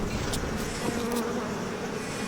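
Dense insect buzzing from a swarm of bees in the video game BioShock Remastered, a steady droning hum that stays close and constant throughout with no talking.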